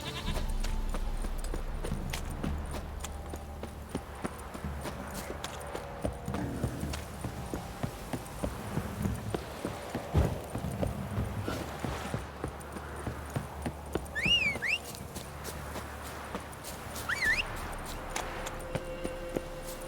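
Roach, Geralt's horse in The Witcher 3, clip-clops steadily at a walking pace for the whole stretch, hooves thudding over a low rumbling outdoor ambience with faint distant bleats of sheep or goats.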